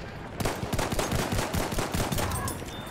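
Rapid World War One era weapon fire in Battlefield 1, a dense, steady rattle of shots in quick succession lasting the full few seconds, fairly close and without talk.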